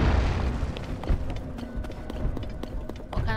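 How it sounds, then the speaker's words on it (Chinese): Rocks rolling and tumbling in the video game The Legend of Zelda: Tears of the Kingdom, a rumbling series of heavy thuds and clatters, with a loud boom at the start and irregular knocks continuing. "这里有很多石头在滚"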